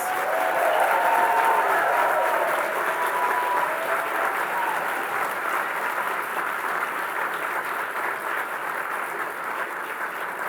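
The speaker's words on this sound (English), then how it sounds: "please applaud these folks" An awards-ceremony audience applauds the honorees and nominees in the room, a steady, full wash of clapping that holds for the whole stretch at an even level, with faint voices and a tonal line early on.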